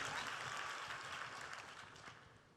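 An audience applauding during a Cisco keynote, a dense wash of clapping heard from a distance that slowly fades over a couple of seconds.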